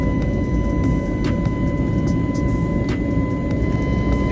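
Steady loud cabin drone of an Indigo airliner cruising from Chennai to Bangalore, a constant engine and airflow rumble with a faint steady tone and occasional soft clicks, no voices.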